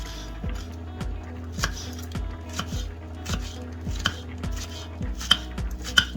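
A knife chops food finely on a cutting board in quick, steady strokes, a run of sharp knocks close by with a few louder taps near the end; no one speaks. The food is being readied for chicken chow mein.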